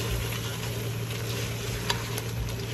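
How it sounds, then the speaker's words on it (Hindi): Spices frying and roasting in a pan for mutton karahi, a steady close sizzle with faint crackles throughout. "मसालों को अच्छी तरह भून लेते हैं।"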